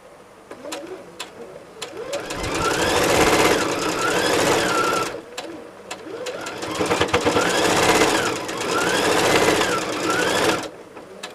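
A sewing machine stitches a quilt seam, first a few quick anchoring stitches, then two sustained rapid whirring runs of several seconds each separated by a brief pause, close and clear.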